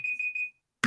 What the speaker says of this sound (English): That is the timer for the votes